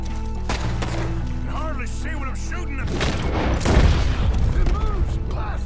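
Gunfire in Red Dead Redemption 2 builds midway into a dense run of loud shots and booming thuds over ongoing game sound, with voices heard earlier.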